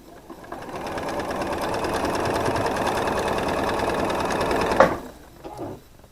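A sewing machine stitching quilt pieces made of half-square triangles runs in one steady, even whirring burst for about four seconds, then stops with a click and a brief shuffle of fabric.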